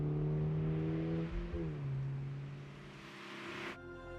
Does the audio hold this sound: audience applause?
no